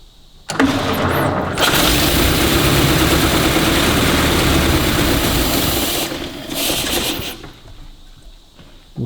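An old Lincoln engine with a freshly rebuilt carburettor cranks loudly and catches, running roughly at a steady roar for several seconds before dropping off and going quiet.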